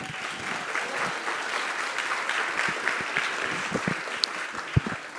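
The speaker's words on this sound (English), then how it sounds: "So I just want to give them another round of applause." Audience applause at a summer startup program finale, a sustained, fairly loud clapping crowd with a few sharper close claps and bumps standing out toward the end.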